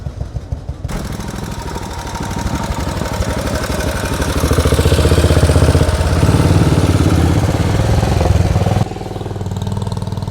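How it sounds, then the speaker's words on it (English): Vintage motorcycles rolling in for a VMCC Central Scotland club run, their engines growing louder as they come near and then throbbing steadily close by, with no talk. "And the bikes are still rolling in."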